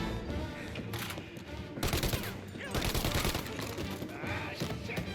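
Dense gunfire in the Mafia Definitive Edition video game, a steady crackle of shots with heavier bursts near the middle, heard alone without talk.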